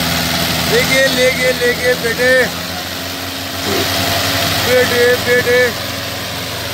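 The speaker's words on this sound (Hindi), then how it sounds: "शाबाश, दो ट्रैक्टर से काम चल रहा है भाइयों" Tractor engines, a Mahindra 575 DI and a Farmtrac 45, idle at a steady low throb, with a man calling out loudly over the rumble in two bursts.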